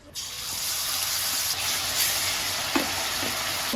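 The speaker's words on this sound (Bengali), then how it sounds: "কড়াইয়ের মধ্যে দিয়ে দিলাম পেঁয়াজ আর একটুখানি রসুন বাটা, রসুন আর আদা বাটা।" Onion with garlic and ginger paste frying in oil in a wok makes a continuous bright sizzle, with a few small clinks and stirring noises and no talk over it.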